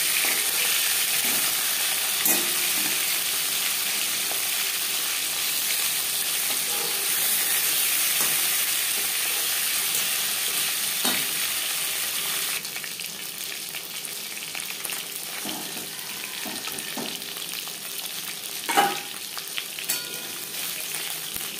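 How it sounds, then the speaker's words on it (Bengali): Katla fish pieces fry in oil in a pan, sizzling with a steady bright hiss that carries on for the whole stretch, with occasional soft clinks and stirs and no talking. "একটা সাইড ভাজা হয়ে গেলে অপর সাইডটা উল্টে দেবো।"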